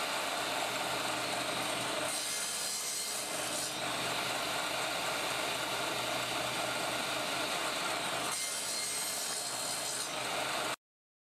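Walnut and maple pieces are cut with a saw for wood-turning segments, giving a loud, continuous rasping whine with two brief dips between cuts and no voices.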